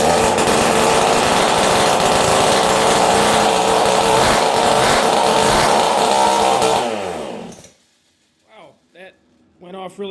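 A trashed 50cc two-stroke SYX Moto dirtbike engine with the exhaust off, running loud and harsh at high revs for about seven seconds, then cutting out, followed by quieter close sounds.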